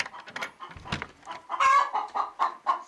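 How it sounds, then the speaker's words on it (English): Hen clucking in a hen house after laying an egg: a close, loud run of sharp, rhythmic clucks and squawks, alone with no talking. "She says she laid an egg."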